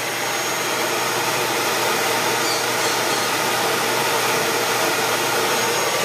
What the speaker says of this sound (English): This is the Dyson Sonanic, which is brand new.